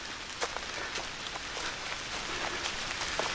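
Light drizzle pattering steadily on a hiking trail, a soft continuous hiss with scattered brighter droplet ticks, even and close throughout with no voices.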